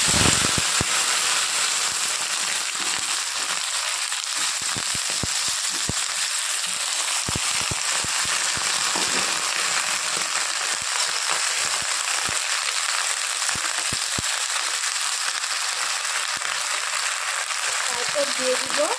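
Washed flat beans (sheem) fry with nigella seeds in hot oil, giving a steady, bright, hissing sizzle throughout. Scattered small pops and crackles rise above it, close and continuous, with no pause.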